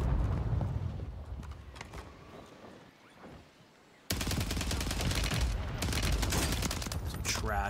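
Gunfire from a Warzone 3 match plays on the BP50: scattered shots and distant exchanges give way, after a brief lull, to loud, dense rapid bursts with overlapping reports and echoing impacts.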